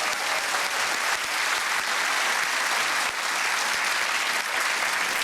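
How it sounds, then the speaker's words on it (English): Steady applause from a studio audience at a comedy quiz show, a thick, even roar of many hands clapping at once that holds at full strength from start to finish. "Let's give him a round of applause."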